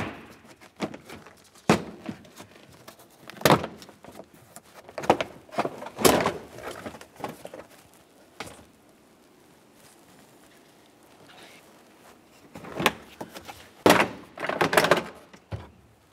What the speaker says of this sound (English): Give it a little tug to break it free from the body of the vehicle